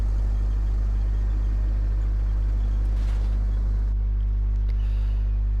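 A KV-5 heavy tank in World of Tanks drives forward with a constant deep engine drone and low rumble, steady and close, with a brief rushing swell partway through.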